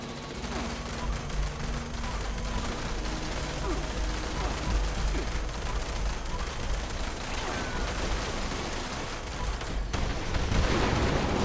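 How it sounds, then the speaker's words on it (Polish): Combat in the video game Fallout 76 during a raid, a continuous wash of explosions and rapid gunfire rumbling and crackling throughout, loud and dense with no clear pauses. "To te wybuchy mnie trochę irytują."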